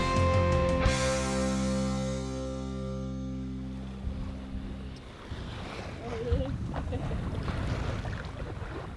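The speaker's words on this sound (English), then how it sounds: "Now this is what I call easy sailing. Gentle breeze and smooth seas." A 33-foot cutter sailboat in a gentle breeze on smooth Pacific seas off Mexico; water swishes and laps against the hull under a steady wind rush, preceded by a brief loud tonal hum that fades out.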